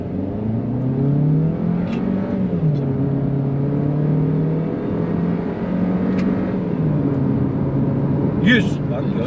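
A Suzuki S-Cross hybrid accelerates from 0 to 100 km/h on a flat road, its engine note climbing and dropping through quick gear changes, loud and close from inside the cabin.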